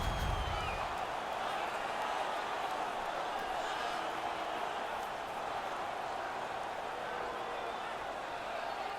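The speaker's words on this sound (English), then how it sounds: "The home crowd is ecstatic." A dense, steady roar from the home arena crowd fills an NHL 19 hockey game, continuous and fairly loud, with a commentator talking over it.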